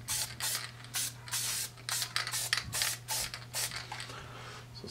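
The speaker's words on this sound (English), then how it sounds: "this is Loctite spray adhesive, and all it is like contact cement." Loctite spray adhesive hisses from an aerosol can in a series of short, sharp bursts, each about half a second, with brief gaps between them, over a faint low steady hum.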